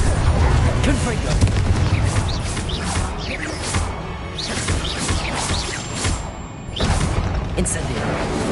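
Confringo spell explosions in the Hogwarts Legacy game, a dense run of booms and blasts with crackling bursts and a continuous rumble, loud throughout with a brief dip before erupting again.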